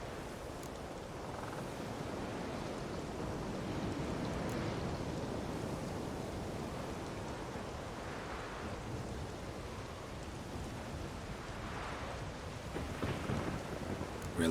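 A thunderstorm in The Witcher 3 game: steady heavy rain with rolling thunder rumbles that swell and fade throughout, a loud continuous wash with no talking.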